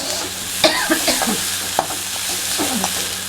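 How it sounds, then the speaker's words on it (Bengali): A metal spatula clangs against a kadai in a home kitchen while bitter gourd and onion are fried, giving a few sharp, close clanks over a steady frying hiss. "কড়াই খুন্তির সাথে মারপিট করে।"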